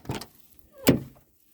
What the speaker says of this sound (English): Oh, frick, that's a heavy door.